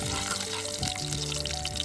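Onions frying in oil in a pan over an outdoor campfire, a steady close sizzle and crackle that carries on throughout with no talk.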